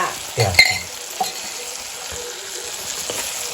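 Chili and garlic fry in a pan on a wood-fired stove, a soft continuous sizzle with a few clinks and scraping stirs of a utensil near the start.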